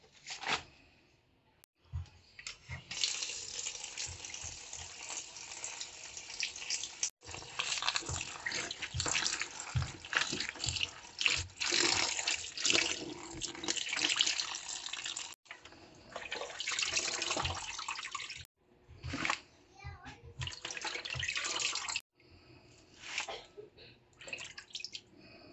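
Tap water running from a faucet while oregano leaves are washed, a steady hissing splash that stops and restarts several times over the span, fairly close but moderately quiet.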